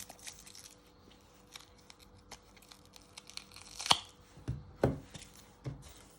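An onion being chopped and peeled with a knife at home, a few sparse close taps and crisp papery tearing sounds, with two louder chops near the end, no talking.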